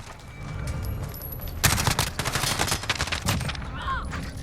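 MP5K submachine gun bursts in Call of Duty Modern Warfare online multiplayer, a dense run of rapid shots after a quieter start, close and loud, with background game noise.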